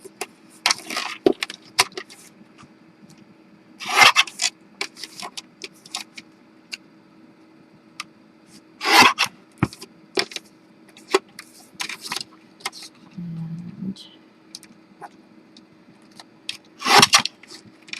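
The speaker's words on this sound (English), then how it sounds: "I want to get my little cutter out and trim it out" A small cutter trims a paper card, heard as scattered short, sharp snips and scrapes spread through an otherwise quiet stretch, fairly close, with no one talking.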